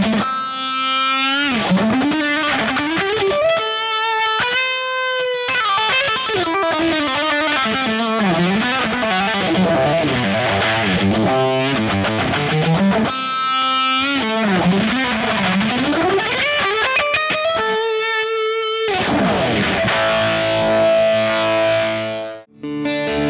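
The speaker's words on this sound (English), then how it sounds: "I'm gonna kind of put a bit of a montage together of a few different tones where I feel this really complements this guitar" A Hagstrom Ultra Max electric guitar plays a montage of distorted, effects-laden tones, with sustained chords and melodic runs shifting through chorus and modulation, loud and alone without talk.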